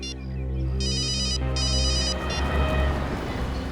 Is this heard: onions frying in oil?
no